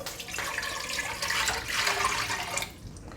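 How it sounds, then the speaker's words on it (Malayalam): Water runs steadily into a pan of beans with a splashing, gushing hiss, fairly close and continuous for a few seconds before tapering off. "ഇനി അതിലേക്ക് നമുക്ക് കുറച്ച് വെള്ളം ഒഴിച്ചു കൊടുക്കണം"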